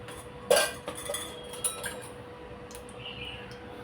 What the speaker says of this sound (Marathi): मी एका कढईत तेल घेते 2 चमचे.